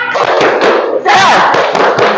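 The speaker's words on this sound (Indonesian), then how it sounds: "Tepuk semangat." A group claps the rhythmic Indonesian 'tepuk semangat' pattern during a teachers' coaching session, with sharp hand strikes at irregular intervals and raised voices over them, close and loud.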